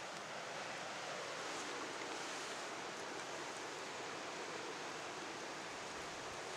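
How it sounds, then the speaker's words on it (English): Steady broadband wind rushes outdoors around a small homemade twig stove as water nears the boil, a constant hiss and low buffeting that never lets up, with no talking. "it is a bit windy"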